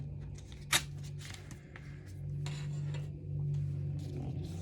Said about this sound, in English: let's cut off or rip off the corner of this